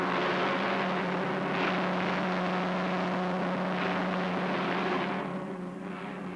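A helicopter flies over the sprawling Innocenti engineering works and its sheds, a steady droning hum with a constant low tone that holds loud and even before fading slightly at the end.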